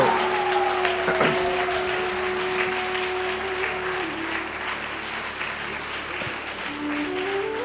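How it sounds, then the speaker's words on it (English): An audience claps steadily through a book release ceremony, a full continuous round of applause with some faint tonal hum or voices underneath. "Please give a big round of applause"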